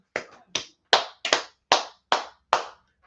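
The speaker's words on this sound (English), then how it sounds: "Let's clap it up for class, right?" A small audience claps at a class, seven separate sharp bursts of hand claps, fairly close and crisp, with short gaps between them and no talk.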